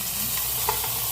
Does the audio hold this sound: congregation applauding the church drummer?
no